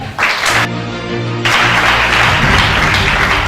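A church congregation applauds and cheers in a steady, dense wash of clapping that swells louder after a brief dip, with some voices mixed in.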